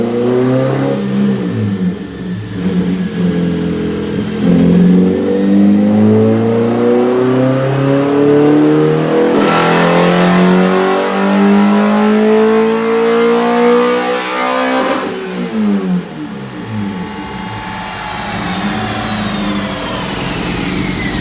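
Honda B16A four-cylinder engine on a dyno, revving up repeatedly in loud rising sweeps, dropping back, then climbing again to high rpm.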